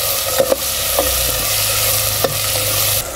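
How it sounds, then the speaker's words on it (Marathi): Chopped onion frying in a pan until reddish, a loud steady sizzle up close, punctuated by a few sharp spatula clicks and scrapes. "आता कांदा आपण पूर्ण लालसर होईपर्यंत आपल्याला परतून घ्यायचं।"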